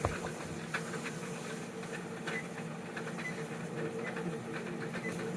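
Pressure canner holding minestrone soup venting steam on the stove, a steady faint hiss with a low continuous hum and light irregular ticks, no voices.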